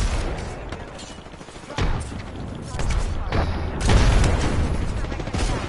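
Grenade blasts in a shooter video game go off as a series of heavy booms and thuds among scattered gunfire, with loud bursts near the end while the player talks tensely.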